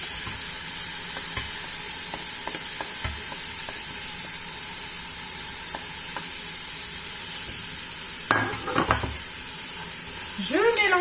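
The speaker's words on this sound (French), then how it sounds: "Je mélange tout." Meat, onions, tomatoes and spices for a quick couscous sizzle steadily in a pan, with sparse scrapes of stirring, a burst of clattering strokes near the end and a louder hiss rising as it finishes.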